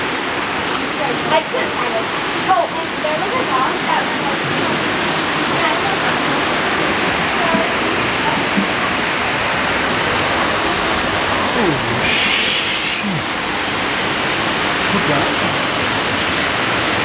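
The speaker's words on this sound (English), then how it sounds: "This is a small little river that cuts its way through this canyon." Rushing water roars steadily and close throughout, a dense continuous wash of a small, fast-flowing river cutting through a gorge, with no pauses.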